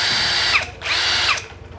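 Hukan cordless battery drill with two speed settings, its motor whining loud and close in two short bursts, each spinning up and then cutting off.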